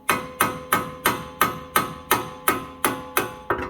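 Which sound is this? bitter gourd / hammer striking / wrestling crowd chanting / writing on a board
hammer striking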